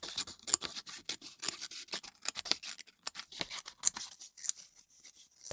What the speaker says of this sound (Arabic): ونقص كل الورقة لشرايط رفيعة